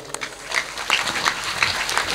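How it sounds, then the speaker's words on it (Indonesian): Brief burst of audience applause at an anniversary (harlah) gathering of Kordais at UIN Walisongo; scattered, moderately close hand claps patter steadily for a couple of seconds. "Tepuk tangan untuk semuanya"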